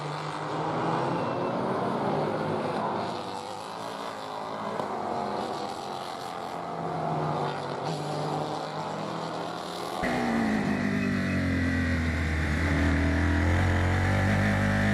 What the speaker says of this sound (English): So Foray shouldn't have too much to worry about as these cars work their way by him.